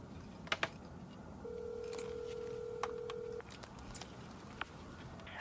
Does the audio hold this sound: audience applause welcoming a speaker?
no